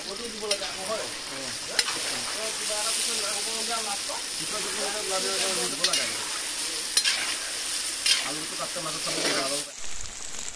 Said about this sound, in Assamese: এইখিনি ভালদৰে ৰঙচুৱা কৰি ভাজি ল'ম